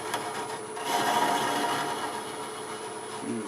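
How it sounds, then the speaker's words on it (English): A small starter drill bites into a spinning wooden workpiece on a lathe while turning a wobbly Santa, giving a steady dry rasping and scraping hum that swells slightly and holds throughout. "do a starter drill hole."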